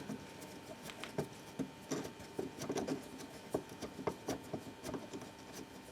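Torx screwdriver working a headlight screw loose on a Peugeot 307, a series of small irregular clicks, ticks and scraping taps at close range, moderately quiet with no talking.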